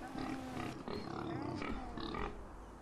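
A pig grunts in the fantasy role-playing game Enderal, with rain in the game world and ongoing game sound filling the background throughout.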